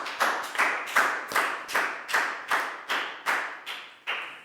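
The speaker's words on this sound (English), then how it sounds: "High five, big round of applause." A small group of classroom pupils claps in a steady, even rhythm, about ten crisp, close hand claps spaced evenly, each sharp and bright, with no other sound between them.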